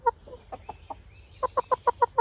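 Chicken clucking, a few scattered soft clucks followed by a quick regular run of six loud, close clucks, with no talking.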